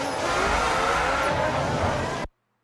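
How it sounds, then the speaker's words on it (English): A Formula 1 car's engine screams at high revs as the car spins out in the F1 25 racing game, a loud, continuous roar with a rising whine and tyre scrub that cuts off abruptly at the end. "Because look, listen to the engine."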